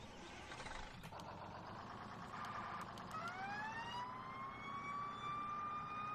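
A fire engine siren in the Farming Simulator video game, rising and wailing in long sweeping tones at moderate distance over a steady traffic rumble.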